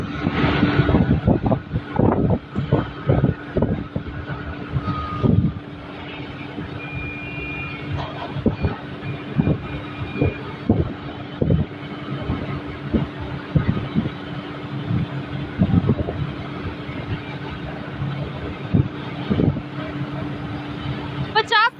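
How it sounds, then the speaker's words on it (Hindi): Tractors in a farmers' tractor rally chug and rumble steadily, with intermittent knocks and beeps, while someone talks continuously over the engine noise. "आप देख सकते हैं कि अभय सिंह चौटाला खुद ट्रैक्टर को चलाते हुए ट्रैक्टर रैली की अगुवाई कर रहे हैं"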